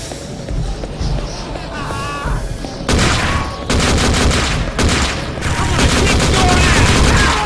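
Rapid bursts of gunfire from the video game Gore, dense and loud, with several long volleys of shots overlapping into continuous fusillades across the clip.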